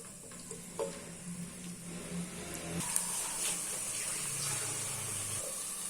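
Onions fry in a pan as a soft, steady sizzle throughout, joined by faint stirring scrapes and a clatter of utensils near the middle.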